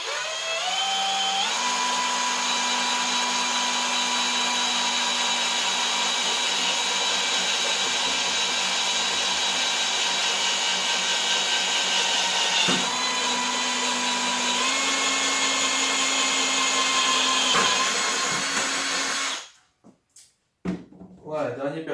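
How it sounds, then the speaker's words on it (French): A drill whines steadily and loudly through the last hole in a post while fitting U-rails for a Fiberdeck Pacific fence, its pitch shifting slightly a few times, then cuts off and gives way to a few short hissing bursts from a compressed-air blow gun. "Voilà, dernier perçage, un petit coup de soufflette"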